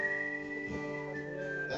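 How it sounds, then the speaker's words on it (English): A person whistles a short melody of a few clear sustained notes, faint and alone, with no talking. "or it's a whistle"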